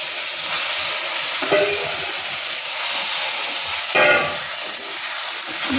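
Taro corms drop into hot oil over onions that have been fried red for a lentil dish, and a broad, constant sizzle and hiss follows, with two louder bursts of spattering and stirring.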